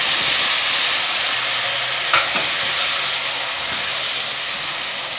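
Ginger garlic paste fries with medium-browned onions for a gobhi gosht curry, a constant loud sizzle and hiss with one brief clunk of a spoon partway through, no talking.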